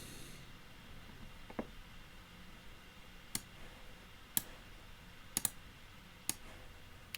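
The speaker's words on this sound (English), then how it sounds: "We're going to click Done." A handful of sharp, isolated mouse clicks, spaced irregularly over a quiet room tone, as a Done button and other items are clicked through while setting up a social media post card.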